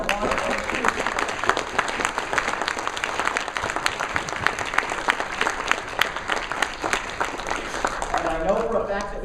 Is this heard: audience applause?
yes